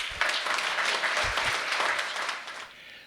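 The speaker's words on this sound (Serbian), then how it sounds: "Pozdravite ga velikim aplauzom." An audience at a poetry and music festival in Niš gives sustained applause, dense clapping that swells and then fades out, with no talk over it.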